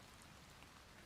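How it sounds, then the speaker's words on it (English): Steady rain falls outdoors, a soft continuous patter and hiss that stays faint and even throughout. "Now the rain is distracting me."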